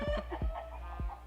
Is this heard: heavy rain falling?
no